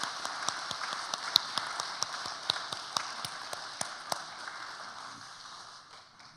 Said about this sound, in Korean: 큰 박수로 한번 격려해 주시면 고맙겠습니다